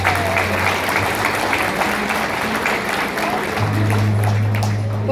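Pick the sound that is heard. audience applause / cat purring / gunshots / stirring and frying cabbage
audience applause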